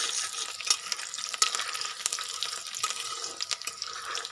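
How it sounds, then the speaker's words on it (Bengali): Flat beans fry in a wok, giving a bright, hissing sizzle with irregular crackling bursts and stirring scrapes, close and moderately loud. "এখন সিমের ভাজা করবো"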